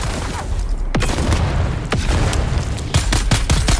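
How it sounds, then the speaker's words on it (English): Grenades and gunfire in the video game Dune Awakening: several sharp booming blasts and shots over a dense, loud rumbling battle backdrop, ending in a quick cluster of cracks. "Throwing grenade!"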